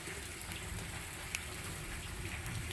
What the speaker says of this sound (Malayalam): ഇട്ട് കൊടുത്ത് കടുക് പൊട്ടി വരുന്നു